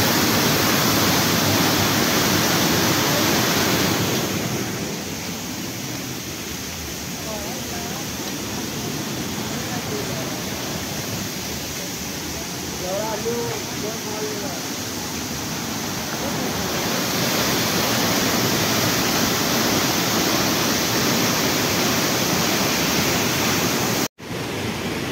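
Waterfall at Amboli Ghat in monsoon season, a loud steady roar of falling water throughout, with a voice speaking faintly under it in the middle.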